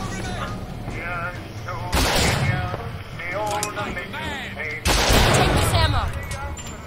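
Gunfire from the video game BioShock Infinite, with two loud bursts of shots over ongoing game noise and background voices.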